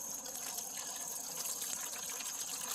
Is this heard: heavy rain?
no